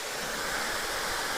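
Steady, even rush of a waterfall on Gunung Tahan, a broad constant hiss of falling water heard alone with no voices.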